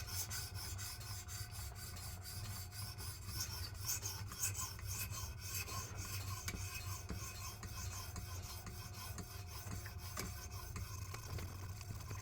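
Steady rhythmic rasping as a 14C28N steel knife blade is stroked back and forth across a PDTools premium bronze CBN sharpening stone, a close, even scraping that repeats for the whole stretch with no talking.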